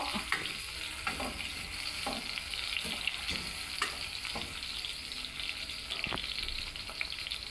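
Onions sizzling and frying in a pan for a clam dish, a continuous crackling hiss broken by scraping stirs throughout, close and steady with no talking.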